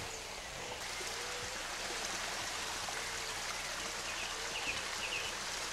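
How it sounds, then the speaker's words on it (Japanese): A small waterfall pours outdoors, a steady, soft rushing wash that holds constant throughout with no voices over it. "滝ができてるよここ"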